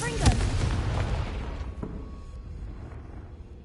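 A Confringo fire spell explosion in Hogwarts Legacy lands as a loud booming blast with a sharp crack near the start, then a rumbling decay that fades over a few seconds.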